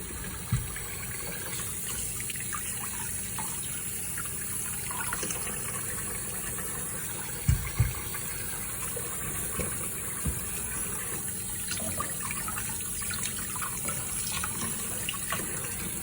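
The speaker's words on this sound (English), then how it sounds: "I'm just kind of lightly rinsing it right there" Tap water runs steadily over produce in a kitchen sink while it is lightly rinsed off after soaking. The stream is a continuous hiss and splash, broken by a few sharp clunks near the middle.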